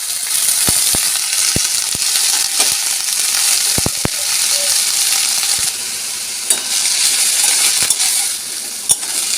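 Greens fry in a pan on a home stove, a loud steady sizzle filling the whole stretch, close, with occasional sharp clicks and taps of a spatula or utensil.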